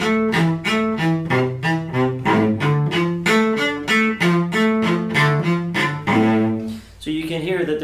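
A cello is bowed in a run of short, evenly powerful accented notes on both up and down bows, a steady driving pattern of detached strokes heard alone and close up.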